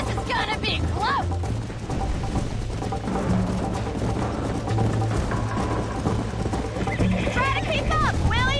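Hooves of a horse galloping in the Western video game Red Dead Redemption drum quickly beneath game music and voices, with a brief whinny.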